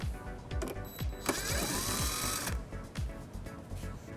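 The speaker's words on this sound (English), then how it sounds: "it exposes this screw that we'll remove using an 8mm socket" Ratcheting tool turning a screw out with an 8mm socket during trailer hitch installation on a 2012 BMW X5, rapid repeated clicks near the microphone.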